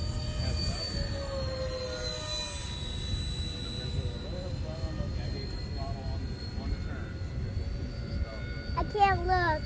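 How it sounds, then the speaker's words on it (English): A steady ducted-fan engine drone from a model A-10 jet hums throughout, with a high whine sweeping in pitch, continuous and moderately loud, like a small aircraft circling overhead. "Not until this plane's done flying."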